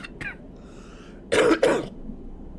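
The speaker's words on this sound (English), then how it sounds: "I did not mean to cough" Two sharp coughs close to the microphone, one right after the other, preceded by a faint throat sound and quiet breathing.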